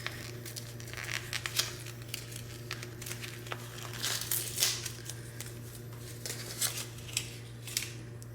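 Crinkling, tearing plastic packaging as a Dollar Tree pack of 100% polyester fabric is opened, a steady close rustle with sharp crackles and rips scattered throughout over a low constant hum.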